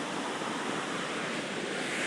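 A river running behind a village spot during heavy monsoon rain and flooding, heard as a steady, loud broadband rush of water with no break, no voices over it.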